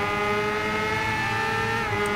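A motorcycle engine in the Ride 2 racing game, a 2017 Kawasaki Ninja ZX-10RR, holds a loud, steady high-pitched whine with rich harmonics and a slight pitch dip near the end, heard alone.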